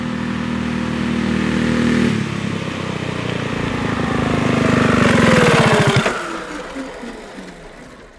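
A small go-kart engine runs and revs with a rough, buzzing tone, rising in pitch and then abruptly cutting out and sputtering to a stop as the engine locks up.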